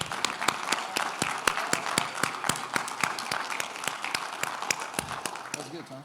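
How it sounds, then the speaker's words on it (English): An audience applauds after a talk, steady dense clapping with a few sharp louder claps standing out, sustained for several seconds at a moderate level with faint voices underneath. "Give Al a round of applause."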